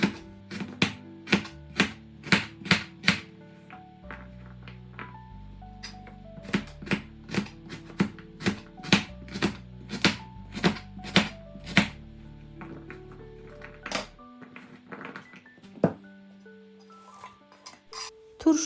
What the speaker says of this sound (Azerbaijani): Kökü də öncə 2 hissəyə bölürəm, sonra isə bu cür doğrayıram.